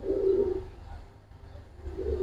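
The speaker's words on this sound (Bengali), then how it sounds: "মাদিটা আমার নিজের উড়ানো কবুতর" A domestic pigeon, a hen bird from a home-flown pair, coos in two low, throaty bursts at the start and end, with a quieter gap between, close by and alone.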